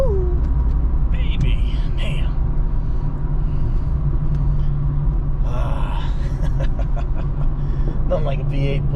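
An LS V8 engine in the Project Z28 idles with a steady, deep, close rumble, while someone speaks over it.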